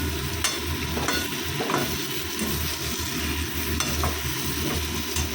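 Ginger and cumin paste fries in a pan with a steady close sizzle, while a spoon stirs through it with soft scraping strokes every second or so.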